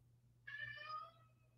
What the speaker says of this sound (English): And now he's meowing.